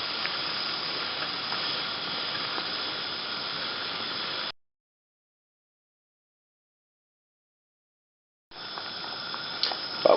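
A pot of hops boils for a homebrew hop tea, giving off a steady, even hiss that cuts out completely for a few seconds midway and then returns.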